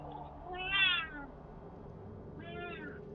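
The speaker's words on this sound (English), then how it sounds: "I hear you, cat. It's not time to eat yet." A cat meows twice, a clear rising cry followed after a pause by a shorter one, close by over a quiet room murmur.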